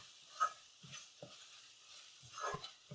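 Ginger-garlic paste and masala powder stirred in a pan, with faint soft scraping strokes of a spoon recurring every half second or so over a quiet low sizzle.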